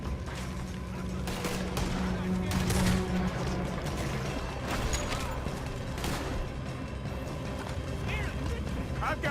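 A chaotic shootout in Red Dead Redemption 2, with repeated sharp gunshots and rattling bursts of fire over continuous clatter and background rumble, and voices shouting in the mix.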